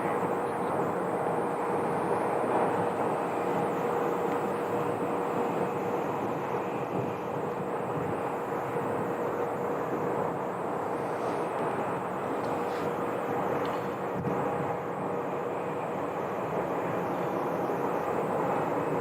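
A steady jet engine roar from a Mesa Airlines CRJ regional jet at Phoenix Sky Harbor Airport, fairly distant and constant throughout, with a faint whine riding on top.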